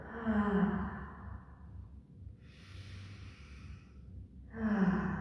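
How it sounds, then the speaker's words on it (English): A deep, audible inhale followed by a long, breathy exhale during a gentle floor-based yoga flow, close to the microphone with a soft sighing quality, then another inhale begins. "Taking a big inhale and a big exhale."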